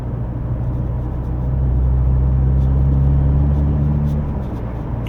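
A 2023 MINI Clubman JCW F54 in sport mode cruises at a steady legal speed, giving a low, even engine drone that rises slightly in the middle. It sounds close and continuous, with no talking.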